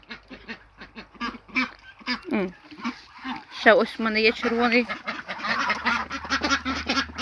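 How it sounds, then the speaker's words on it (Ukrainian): Geese honk and ducks quack loudly partway through, with someone talking before and after the bird calls. "я люблю ці звуки. Гуси, качки, кури."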